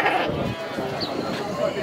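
Goats bleating at a livestock fair for pigs and sheep, loud and close, with someone talking over the animal calls throughout.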